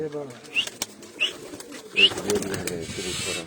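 Pigeons coo softly at close range, with a few short higher calls and faint rustling between them.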